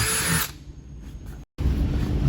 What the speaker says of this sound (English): Firstly, I like to drill a pilot hole next to where I'm going to be using